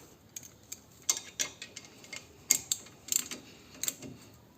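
Brake caliper screw being tightened on a Renault Megane during a brake pad change, a run of quiet irregular ratcheting clicks, close and sharp against a hushed background.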